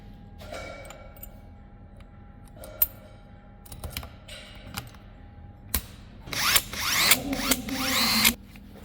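A power drill whirs in short bursts, building to a louder sustained run near the end, with small clicks and handling noises earlier, during work on stainless pipe.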